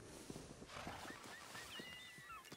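A horse in Red Dead Redemption gives a few soft clip-clop hoof steps and faint whinnying over a steady ambient bed, with light bird clucking in the background.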